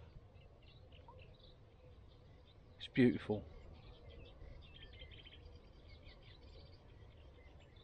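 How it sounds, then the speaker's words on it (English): Faint birds chattering and chirping in the distance over a quiet outdoor hush, with someone speaking briefly and softly partway through. "The birds chattering."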